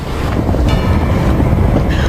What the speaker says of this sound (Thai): ลมเริ่มพัดมาอย่างรุนแรง กระแสน้ำก็เริ่มแกว่งแรงขึ้น